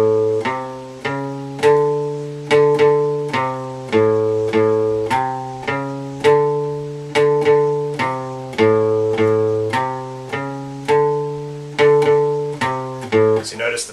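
Guitar playing a riff: a steady, close run of picked notes with clear sustained tones and a repeating pattern that quickens near the end, alone without talk.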